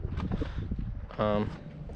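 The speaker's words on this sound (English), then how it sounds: "Sorry about the wind" Low, rumbling wind buffeting the microphone while driving a truck with a 7.3 Powerstroke diesel, steady throughout, with a voice speaking underneath and a brief louder burst near the middle.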